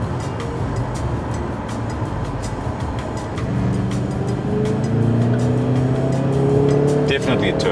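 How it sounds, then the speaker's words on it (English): Steady idle of a 2-liter four-cylinder turbocharged petrol car engine, a low continuous hum that swells slightly louder midway, heard close and alone without talk. "It's a 2-liter 4-cylinder petrol turbo."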